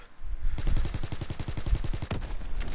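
Rapid automatic gunfire from the World War II shooter Call of Duty WW2, a steady burst of evenly spaced shots running for most of the stretch, close and loud, ending in a few heavier blasts.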